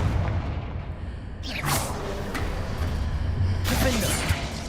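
In Hogwarts Legacy, two Confringo blasting spells strike in succession, each a fiery whooshing boom with a shattering crackle, set against a rumbling battle backdrop.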